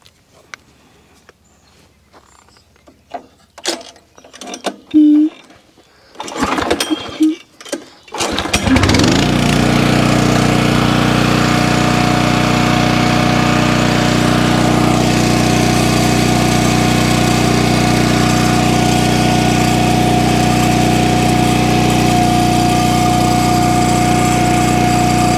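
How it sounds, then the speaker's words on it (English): An Eastonmade Axis firewood processor starts up after a few scattered clunks, then runs loud and steady with its conveyor engaged, a continuous engine drone with a constant hum for the rest of the clip. "Let me turn on the machine and we'll activate that and show you how quickly or"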